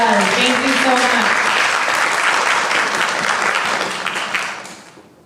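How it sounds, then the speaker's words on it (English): Applause for a student at a grades 3–5 math quiz event, brisk clapping that starts over a voice, holds for a few seconds, then tapers off and dies away. "Let's give Darlensky a round of applause."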